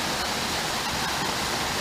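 A waterfall along a creek on a gold prospecting outing gives a constant dense hiss and roar of falling water, loud and even, with no voices.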